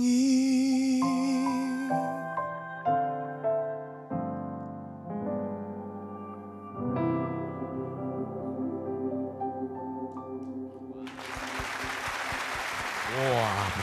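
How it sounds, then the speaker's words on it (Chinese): Judges on a talent show applaud a singer, a burst of clapping that builds near the end after sustained sung and musical notes, loud and close. "你看我们这个评鉴团一致都为你这个鼓掌啊"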